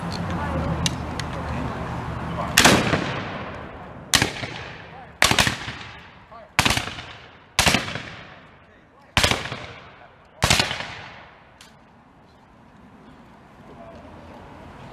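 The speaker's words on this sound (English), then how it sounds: "Firing by files from the right. Commence firing." Civil War reenactors fire muskets by files at an outdoor event in Morristown, New Jersey: seven sharp, loud individual shots crack out one after another at roughly one-second intervals, each echoing briefly, with a faint voice beforehand.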